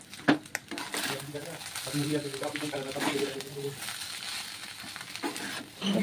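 Biryani masala with potatoes, eggs and salt frying in a pan gives a soft sizzle with scraping stirs, and a voice sounds through the middle stretch.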